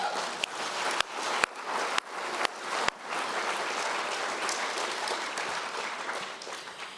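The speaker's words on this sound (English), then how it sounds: "let's give them a round of applause." Audience at a Make-A-Wish Idaho fundraising event giving a round of applause, a few sharp nearby claps leading into sustained, even clapping from a large crowd.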